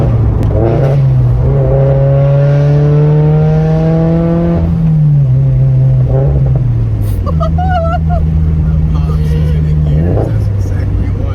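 A turbocharged Subaru BRZ with a Tomei 80R aftermarket exhaust revs hard through several rising sweeps with a rough, loud exhaust drone, dropping between gears with brief crackles.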